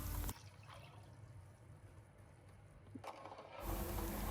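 Water for palm sugar syrup, with pandan leaf, red sugar and white sugar, pours into a pot in a quiet, steady trickle, alone and close, with a louder splash and clatter near the end.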